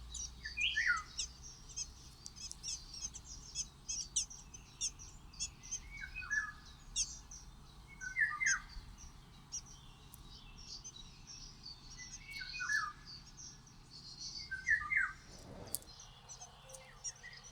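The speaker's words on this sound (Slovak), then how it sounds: "V prírode drozdy spievajú hlavne za úsvitu a pri západe slnka." A song thrush sings outdoors, repeating short bright phrases at intervals of a second or two over a faint, steady insect-like hiss, with a brief low thump near the end.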